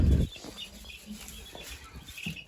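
Newly hatched ducklings peep in scattered high little calls, faint and close, with a brief rustling thump at the start.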